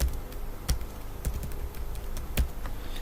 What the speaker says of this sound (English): So I'm just going to type in my username there.